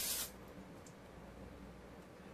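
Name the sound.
spraying cooking spray into crock pot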